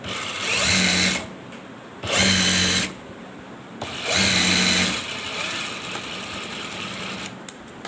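A sewing machine runs in three loud bursts of stitching along the red edge of a ladies' belt shalwar, each burst about a second long, separated by quieter pauses with a steady low hum underneath.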